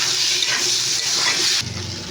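Drumstick (sajna) vegetables fry and sizzle in a pan with a steady hiss as they are stirred, the frying noise close and constant before quieting slightly.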